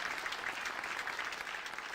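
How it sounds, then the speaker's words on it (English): Applause in an online meeting for a table topics speaker, Bhavika, a short, soft, even spell of clapping that sounds slightly muffled and runs unbroken without any talk. "Bhavika a round of applause for her great job on table topics."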